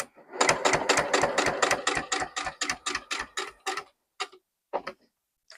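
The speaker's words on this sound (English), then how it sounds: "sew to a 1/4 inch before you get to the end" Sewing machine stitching a quilt block, a fast steady run of close mechanical needle strokes that slows to a few separate stitches before stopping.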